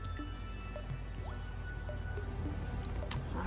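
Wet squelching and dripping as soaked, foaming soapwort plant material is squeezed by hand to press out liquid for herbal shampoo, with soft squishes and scattered drips close by.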